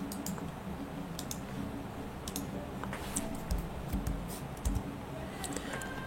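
Computer keyboard and mouse being used to copy and paste links into a browser, with quiet irregular key taps and sharp clicks over a faint steady hum, close by, no talking.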